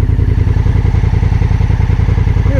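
Motorcycle riding through tall grass in the Australian outback, its engine a steady loud rumble with rhythmic low pulses that run unbroken for the whole stretch.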